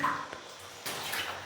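Water sprays from a shower head in a newly built house, a brief, moderately faint hiss that swells midway.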